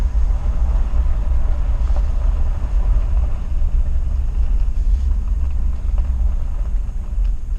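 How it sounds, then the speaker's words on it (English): A heavy, steady low rumble of a passing train, loud and continuous throughout, with no voices. "No way the train comes through here"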